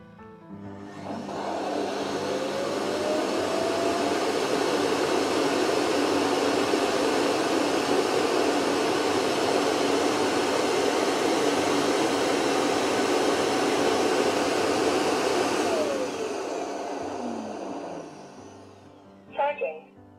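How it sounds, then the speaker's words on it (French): A Proscenic M8 Pro robot vacuum's dock empties its dust bin with a loud, steady whooshing suction roar for about fifteen seconds, then winds down to quiet, ending with a brief beep. "notre aspirateur vient de se vider"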